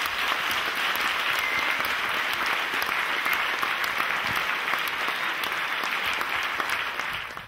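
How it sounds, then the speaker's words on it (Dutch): An audience in a theater applauds after a musical performance of Aida, dense sustained clapping from many hands that carries on evenly and fades slightly at the end. "Nogmaals een applaus voor deze groep."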